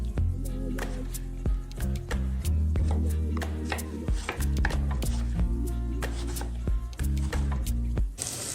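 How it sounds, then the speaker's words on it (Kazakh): Knife chopping peeled tomatoes into cubes on a board for shakshuka, a brisk run of sharp close taps with short pauses between bursts. "Сырты ашылған помидорларды енді әр қайсысын кубик етіп турап аламыз."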